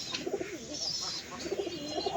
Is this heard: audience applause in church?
no